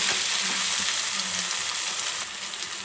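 Chopped tomato goes into a pan of onions and spices for egg bhurji, a loud, close, steady sizzle and frying crackle with some stirring, no voices.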